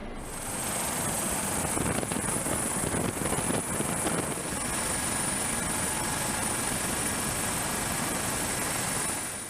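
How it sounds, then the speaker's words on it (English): A search and rescue helicopter flies close by, its rotor and engine roar a steady, loud, unbroken drone with some wind buffeting and no talk. "selected routes can be programmed so that the helicopter flies itself"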